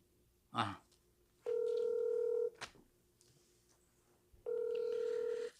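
Telephone tones from a call being placed: two long steady dial-tone-like bursts separated by a pause, with a short sharp click and a brief knock between them, fairly loud and close with no talk.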